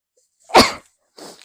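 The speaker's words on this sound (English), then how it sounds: "I have to sneeze." A single loud, sharp sneeze bursts out close by, followed after a short pause by a softer breathy exhale.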